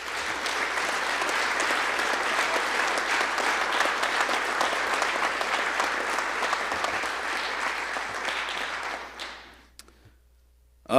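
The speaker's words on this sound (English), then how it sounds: "If we give one more round of applause for our 2024 inductees." Sustained, dense audience applause for 2024 athletic hall of fame inductees at Dakota Wesleyan University, steady and full through most of the span before fading out near the end.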